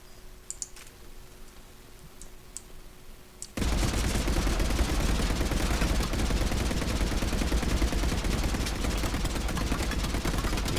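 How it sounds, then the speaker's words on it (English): Assault rifle fire in the video game Mass Effect, a loud sustained burst of rapid automatic shots that cuts in abruptly after a few seconds of quiet clicks and keeps hammering to the end. "We're seriously shooting at the ceiling."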